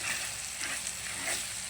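Bottle gourd pieces being stirred into a chicken curry in hot oil, a steady close sizzle of frying with soft scraping of the spoon, no voices.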